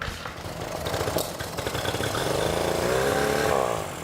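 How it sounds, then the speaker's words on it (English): A boat engine with a mechanical starter, recently water-flooded, runs after start-up in a rough, throbbing chug that builds and steadies into a louder, continuous drone near the listener. "But I got the engine right up and running."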